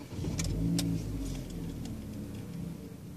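Chevrolet Spin Activ with a 1.5-litre four-cylinder engine starting up in Park, a short low rumble that settles into a steady, smooth idle heard close by from inside the car.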